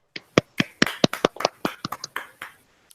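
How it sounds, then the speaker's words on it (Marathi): A handful of participants clap for a student at a virtual science exhibition, giving scattered, uneven individual claps over about two seconds that thin out to a last lone clap. "तर तिच्यासाठी एकदा सगळ्यांनी टाळ्या वाजवायच्या."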